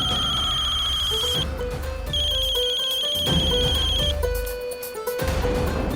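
A phone ringtone plays loudly in repeated electronic bursts, a high bright tone alternating with a lower melodic pattern, with no one speaking.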